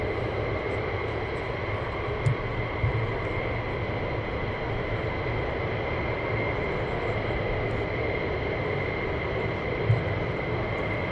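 Military jets taxiing at RAF Lakenheath during surge operations make a continuous loud engine roar and whine that holds steady from a distance, with a few faint knocks over the drone.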